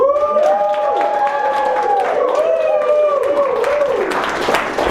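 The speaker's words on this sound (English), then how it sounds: "applause on that, so we can keep that going" Crowd applause at an improv class, with loud whoops and cheering voices sweeping over it, the clapping growing denser toward the end.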